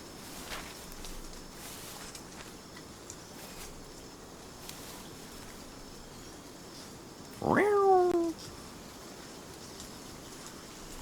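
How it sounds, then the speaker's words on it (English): A cat lets out one clear, drawn-out meow near the microphone, rising then falling, over a faint steady background hiss with no talking. "Is that what your cat sounds like, Bryce?"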